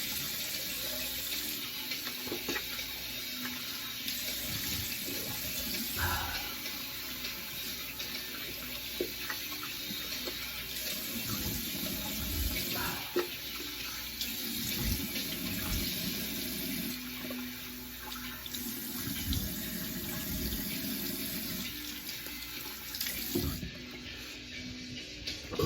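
A tap runs for a long stretch as a face is splashed and rinsed after a straight razor shave, a steady rushing flow close by with irregular splashes and drips, no talking.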